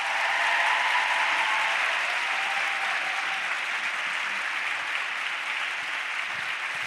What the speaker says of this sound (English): One big round of applause for her.